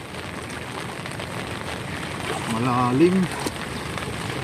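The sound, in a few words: heavy rain with flooding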